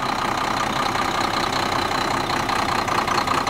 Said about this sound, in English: Bert, here's the engine, man. It's running, okay? It's a good motor